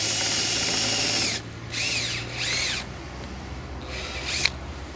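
A power drill bores holes into the plastic body panel of a 2009 Polaris Dragon 800 snowmobile, a steady whine running about a second and a half, then several shorter bursts that rise and fall in pitch as the motor speeds up and slows.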